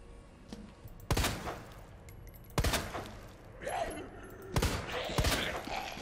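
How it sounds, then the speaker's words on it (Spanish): Several sharp gunshot bursts from a laser-sighted gun in the video game Resident Evil 2 Remake ring out one after another at uneven intervals over a steady low background, each loud and punchy with a short tail. "Tres tiros."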